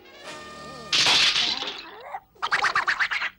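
A cartoon egg hatches as its shell breaks open: a rising tone gives way to a loud crackling burst, followed by a quick series of sharp, rapid cracks, with no speech.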